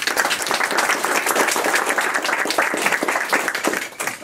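A crowd applauding steadily, dense overlapping claps filling the room at moderate loudness throughout.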